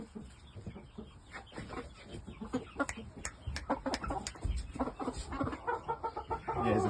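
Several young shamo game chickens, pullets and a stag about four months old, cluck and call in a pen, with scattered short calls rising over a steady low background.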